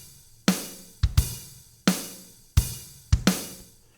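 A Logic Drummer beat with half-open hi-hats plays alone: sharp, evenly spaced hits with hissy sizzling decays, about seven strikes in four seconds.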